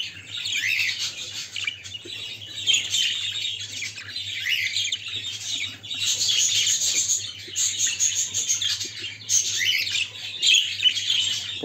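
Blue spangle budgerigars chirp and chatter continuously in a breeding aviary, a bright, busy flock of overlapping tweets and squawks near the microphone with a low steady hum beneath.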